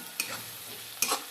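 Masala for kanda poha, with green garlic, being mixed in a pan, a faint low sizzle with two distinct scrapes of a spoon against the metal, close and quiet.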